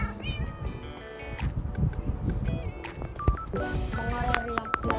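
Cat meowing inside a survival video game, bright harmonic mews scattered over busy game sounds with beeps and clicks, fairly loud and near, with a voice faintly in the background.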